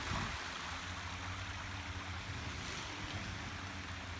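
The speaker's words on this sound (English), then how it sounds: "And there's some cool water running down here." Water runs steadily over the white travertine terraces at Pamukkale, Turkey, a continuous broadband rushing wash with a faint low rumble underneath and no talking.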